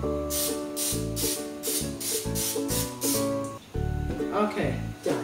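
Short bursts of aerosol spray from a spray can, about nine hisses in a rhythmic series over music and a voice, close and loud.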